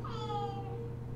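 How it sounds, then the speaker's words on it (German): A cat gives one drawn-out, fairly faint meow indoors, alone with no talk. "Katze, Ruhe jetzt."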